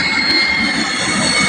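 A passenger jet landing at Dhaka airport roars past close overhead, a loud continuous engine whine and rumble with a high steady tone throughout the short stretch, no talk.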